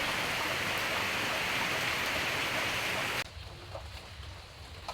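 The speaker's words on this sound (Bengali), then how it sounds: "বাইরে কিন্তু প্রচুর পরিমাণে বৃষ্টি হচ্ছে" Heavy rain falling outside, a loud dense steady hiss that drops suddenly to a much quieter patter with a few scattered drips.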